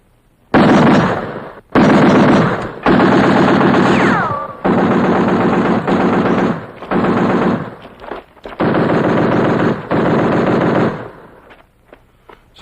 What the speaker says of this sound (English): Fire a few rounds.